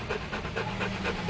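A pet dog pants quickly and rhythmically up close, with short breathy huffs repeating steadily and no talking.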